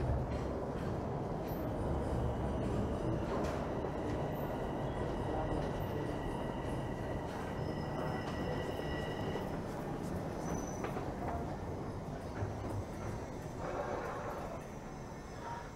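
A Toronto subway train rumbles on, steady and fairly faint, with rail noise and a brief squeal of metal wheels over a broad, constant roar.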